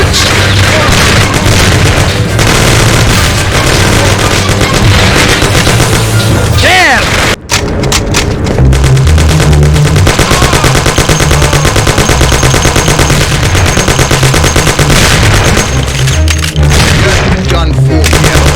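Heavy gunfire in a video game shootout in Mafia: The City of Lost Heaven, with rapid machine-gun bursts and booming shots running continuously and loudly throughout, briefly cut off once midway, with music and effects underneath.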